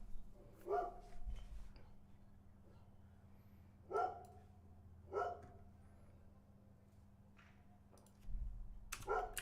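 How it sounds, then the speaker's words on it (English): A neighbor's dog barks in the distance, several separate muffled barks spread irregularly over a steady low hum, faint and in the background. "Sorry again if you can hear my neighbor's dog."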